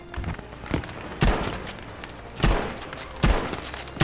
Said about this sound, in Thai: ฮ้ยใครยิงอ่ะเพื่อน